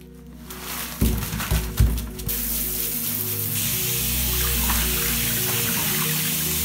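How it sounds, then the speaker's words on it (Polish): A few knocks and clunks come first, then water begins pouring in a steady, continuous hiss that lasts to the end of the clip. "O no właśnie, tam już się woda leje"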